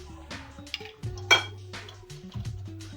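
Brownie batter stirred in a bowl, soft scraping with a few light clinks of utensil on the bowl, quiet and close, a faint voice in the background.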